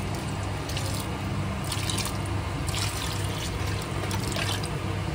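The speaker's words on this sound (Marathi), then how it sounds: "एवढं पाणी झालंय वांग्याचं, ते आपण आता यामध्ये टाकू." Water drained from cooked eggplant pours into a pan in a continuous, close trickle and splash, steady in level throughout with faint dripping on top.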